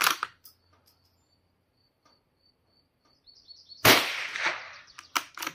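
A sharp Rossi 8122 rifle report with a metallic ring off a steel target frame, then quiet with faint chirping, followed by another loud crack and quick clanging impacts.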